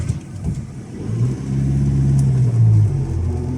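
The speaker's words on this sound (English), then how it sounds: "What the fuck's this coming now? It's a tractor." A tractor approaches along a road during a North Coast 500 drive, its engine rumbling louder as it draws near, with no talk over it.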